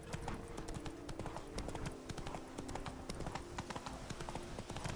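Roach, the horse in The Witcher 3: Wild Hunt, gallops with a rapid, unbroken patter of hoofbeats that carries on throughout, over a steady sustained tone in the background.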